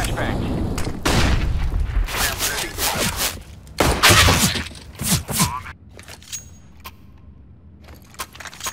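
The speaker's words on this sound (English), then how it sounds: "Throwing flashbang." A flashbang grenade bursts amid Counter-Strike: Global Offensive gameplay, with loud cracks, booms and clattering effects in a dense cluster before fading into quieter game sounds; a player talks at times.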